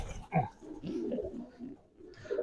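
A pigeon coos softly and close at a pigeon show in a village club, a few low throaty calls with short pauses between them and faint background noise.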